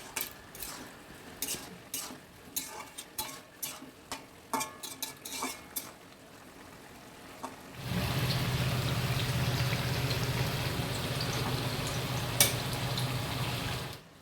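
Mixed vegetable curry (niramish panch mishali sabji) in a kadai: first a series of scraping stirring knocks from a spoon, then a steady close bubbling sizzle as the gravy simmers and reduces.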